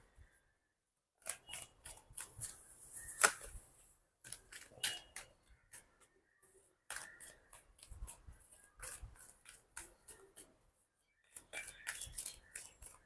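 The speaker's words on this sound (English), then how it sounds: "Let me give this deck a really good shuffle" Tarot cards being shuffled in repeated crisp, riffling bursts with brief pauses between, close up and fairly quiet.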